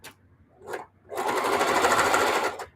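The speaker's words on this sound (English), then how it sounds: "These 1, 2, 3, 4 layers, I'm sewing through like a fourth of an inch." A sewing machine stitches through four layers of old denim about a quarter inch thick, running steadily and loud for over a second after two short starts.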